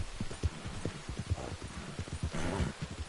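Horse hooves clatter in Red Dead Redemption 2, a fast irregular run of hoofbeats on hard ground, fairly close and steady, with a rushing wash of noise rising midway.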